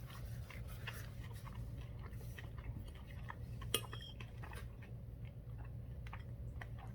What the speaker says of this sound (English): the sort of tender fat that wraps around it as you chew